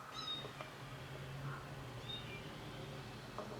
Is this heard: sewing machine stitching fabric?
no